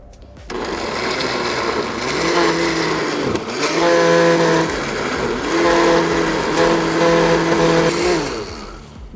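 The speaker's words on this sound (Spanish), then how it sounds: "vamos a licuar y ya saben que agregamos un poco de agua para agilizar el trabajo de la licuadora" A kitchen blender purees sauce ingredients with about a cup of water, a loud, steady motor whir that dips briefly midway, then surges back and holds at a constant pitch.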